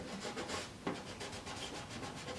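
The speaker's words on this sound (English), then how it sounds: "this will just help to bring out the colours of the wood and make for a really nice finish. This is just applied with a cloth." Cloth rubbing wood finish onto a wooden rumba box, a soft steady swishing and scraping of repeated strokes, quiet and close, with one sharper knock partway through.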